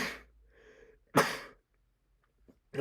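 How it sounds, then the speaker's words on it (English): A single sneeze, preceded by a short breathy intake and soft vocal murmur, then a sharp loud burst, followed by quiet and a faint sniff or click at the end, close to the microphone. "feel like I'm about to sneeze"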